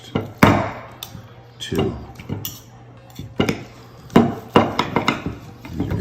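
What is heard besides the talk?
knife cutting a birthday steak for the dog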